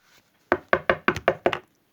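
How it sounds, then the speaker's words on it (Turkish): A door is knocked six times in quick succession, sharp close thumps in a brisk uneven rhythm, with no talking over them. "kapı çalıyor"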